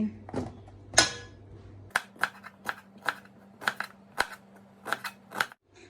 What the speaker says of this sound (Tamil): இப்போ வந்து வெங்காயம் பச்சை மிளகாய் கட் பண்ணுவோம்